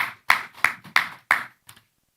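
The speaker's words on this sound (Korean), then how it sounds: "주님 앞에 영광의 박수 올립시다." At a Korean church Sunday worship service, the congregation claps in unison in five sharp, evenly spaced strikes, followed by a faint sixth clap and then silence.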